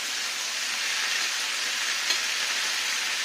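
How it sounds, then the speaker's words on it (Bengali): Rice stirred with a metal spatula in a hot pan while making a simple vegetarian dish, with a continuous bright sizzle and a soft scrape of stirring, close and steady throughout, with no one speaking. "ভাতটা নাড়া দিয়েছিলাম।"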